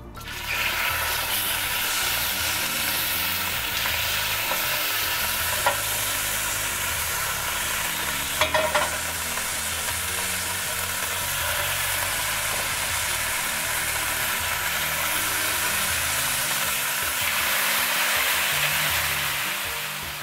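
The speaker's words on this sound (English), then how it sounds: "we've browned up our rabbit nicely, and just on either side for a few minutes in a hot pan" Rabbit pieces browning in a hot pan give a steady, close sizzle that holds evenly throughout with no talking, a few faint clinks rising briefly over the frying.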